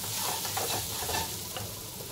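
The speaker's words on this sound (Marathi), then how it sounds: "आता आपल्याला हे भाजून घ्यायचं आहे।" Ground paste of garlic, chili, coriander and cumin sizzles and hisses in a hot pan as it is stirred and roasted, a steady close frying sound with soft scraping, and no voices.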